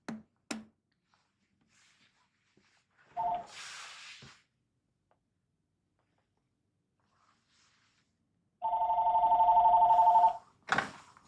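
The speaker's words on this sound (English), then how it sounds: "Phone's ringing." A telephone rings in a quiet room, a couple of sustained two-tone bursts about two seconds long, standing alone between brief clicks and handling noises.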